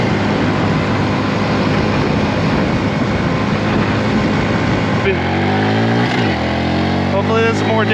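A 2022 Honda Grom motorcycle with a modified sprocket revs hard and climbs through the gears, its engine note rising and dropping at each shift over constant road and wind noise while the rider talks.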